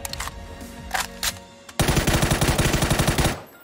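A few scattered shots, then a loud rapid burst of automatic rifle fire in PUBG, evenly paced, ending abruptly.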